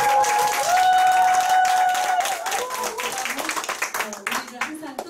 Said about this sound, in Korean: 큰 성장하시라고 박수 부탁드리겠습니다.